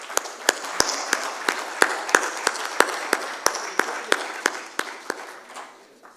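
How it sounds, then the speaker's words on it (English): Applause from an audience at an engineering congress session in Chennai, with a few loud, near claps standing out in a fairly regular beat above a softer spread of clapping that tapers off. "may I request all of you to offer a huge round of applause to Mr. Sasikumar Gendam"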